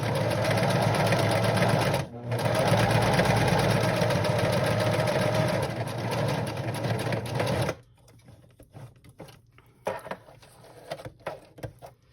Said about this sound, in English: I'm going to sew one, and then I'm going to do the rest